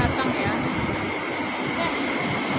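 A train rolls into a station with a steady, dense rumble and rushing noise that stays loud and even for a few seconds, and a voice speaks over it.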